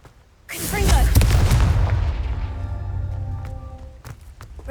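A loud, close fiery blast from the Confringo spell in the video game Hogwarts Legacy erupts with a booming burst, then rumbles and crackles as it slowly fades over several seconds.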